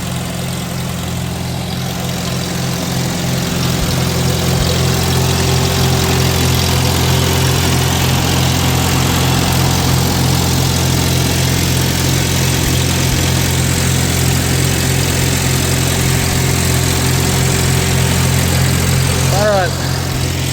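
A 1947 Farmall A tractor engine idles steadily, its low, even drone close and continuous for the whole stretch, with a brief higher whine near the end.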